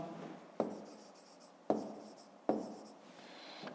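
Pen writing numbers by hand on paper, a soft scratchy scribble broken into three short bursts, each starting with a sharper tap, close and quiet with no voices.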